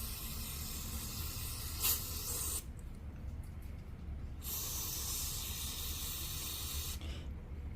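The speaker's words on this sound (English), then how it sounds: "just go ahead and spray the whole thing off and get the dirt off" Aerosol cleaner sprays onto the carburetor of a 2-cycle 25cc weed eater in a steady, close hiss that cuts out briefly twice and resumes, fairly quiet overall.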